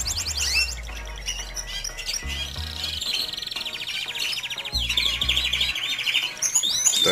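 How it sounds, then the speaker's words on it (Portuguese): A male canary kept in a breeding setup with two females sings close by: bright, rapid trills, chirps and rolling warbles in quick varied phrases, with no talking. "Esse é o canário que eu estou usando com essas duas fêmeas"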